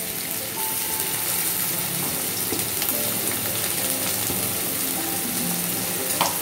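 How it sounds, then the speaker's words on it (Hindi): Garlic and onion fry in oil in a pan for an Indian chicken bhuna masala. A steady, close sizzle runs throughout with occasional light scraping and stirring clicks, and there is no talking. "अभी इस हल्का फ्राई करेंगे,"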